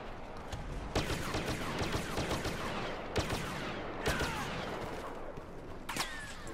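Blaster pistol fire in the Star Wars Battlefront video game, rapid overlapping shots and sharp zapping cracks over dense battle noise, with several distinct louder bursts spaced across the clip.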